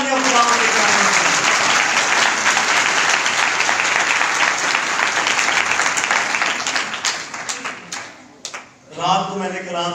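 Loud, sustained applause from a church congregation during a Christmas sermon, dense clapping filling most of the stretch before tapering off, with a voice briefly speaking near the end.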